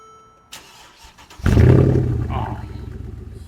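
A Mercedes G-Wagon with an aftermarket exhaust starts up after a short faint rumble, catching with a sudden loud, deep roar that settles into a strong, steady idle.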